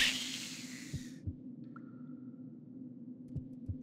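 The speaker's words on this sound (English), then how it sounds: "Why is my heart beating?" A slow, thudding heartbeat from the Arx Fatalis video game pulses as regular double thumps under a low droning hum, following a brief hissing burst at the start.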